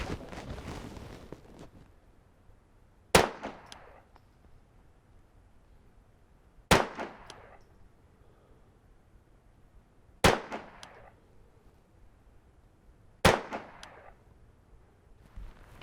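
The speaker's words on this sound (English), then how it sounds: "shot a 10-round group, broke the gun down, shot another 10-round group" Four sharp, loud rifle reports from a Brownells 10/22 takedown rifle at a shooting range, single shots spaced a few seconds apart, each with a short decaying echo over faint wind noise.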